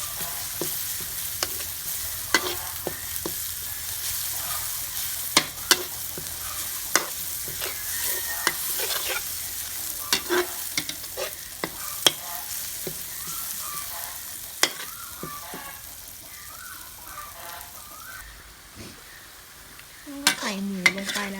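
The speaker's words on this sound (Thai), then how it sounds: "เดี๋ยวผัดพริกให้หอมค่ะ" Chilies stir-fried in a pan for pork pad kaprao crackle with a close, continuous sizzle, punctuated by sharp, scattered spatula taps against the metal. A brief voice comes in near the end.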